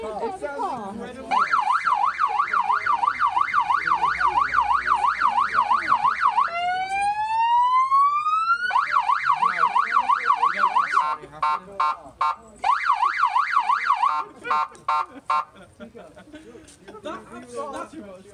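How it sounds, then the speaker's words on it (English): A police car siren cycles through rapid wails, switches to a long rising sweep, then returns to warbling and broken bursts, loud and close, with people talking and laughing over it. "They're controlling the siren"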